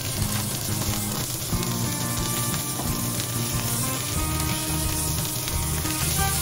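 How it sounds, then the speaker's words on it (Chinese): Chicken and shrimp paste on chicken skin pan-frying in hot oil in a flat pan, a loud, dense, continuous sizzle close up, with faint tonal background sound and no speech. "鸡蓉面向下进行煎制"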